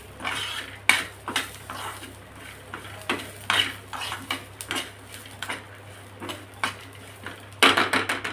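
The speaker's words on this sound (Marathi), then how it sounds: "आता ह्या लसूण पाकळ्या सुद्धा टाकायच्या आहे आणि 1 मिनिटभर हे परतून घेऊ।" Garlic cloves and masala sautéing in a pan for stuffed chillies, stirred with a metal spoon that clinks and scrapes against the pan in a steady, irregular rhythm, close by, over a low background hum.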